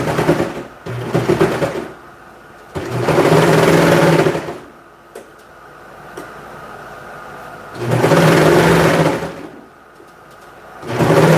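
Sewing machine stitching baby clothing, running in three loud bursts separated by quieter pauses, with no talk.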